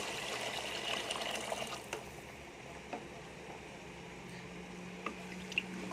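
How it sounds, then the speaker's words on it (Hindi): Water poured into a pot of roasting chickpeas, a continuous hissing sizzle and bubbling liquid with a few small clinks, steady and moderately close. "चनों के 3 से 4 मिनट भुनाई करने के बाद इसके अंदर हम पानी ऐड करेंगे"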